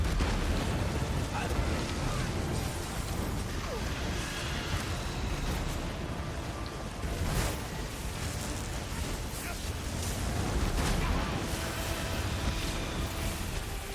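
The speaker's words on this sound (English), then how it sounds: "There's just all these explosions and shit everywhere." Dense, chaotic barrage of explosions and bursts in Elder Scrolls Online, loud and nearly continuous, with booms piling on top of each other throughout.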